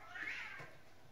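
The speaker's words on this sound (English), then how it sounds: "Ooh, that was a cat there." A cat gives one short, faint meow, rising then falling, heard indoors with no talk over it.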